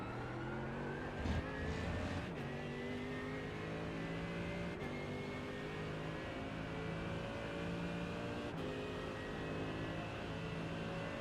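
A Mercedes AMG GT3 EVO race car's engine drones in the iRacing sim at Le Mans, holding a steady high-revving note that climbs slowly through gears with brief shift breaks, continuous and up close.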